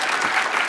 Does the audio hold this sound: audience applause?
yes